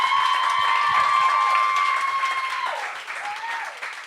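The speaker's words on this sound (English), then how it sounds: "Give him a round of applause." Crowd applause and cheering for Lloyd during an interview event, a loud continuous wash of clapping with a sustained whistle or cheer riding over it, gradually easing off.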